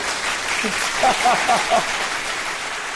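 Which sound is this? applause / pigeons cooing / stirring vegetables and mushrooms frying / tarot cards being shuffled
applause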